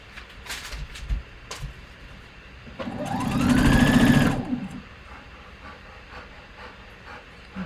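A sewing machine stitches fabric for a boxy harvest top in one short burst of about a second and a half, speeding up and slowing down, with handling noises before and after.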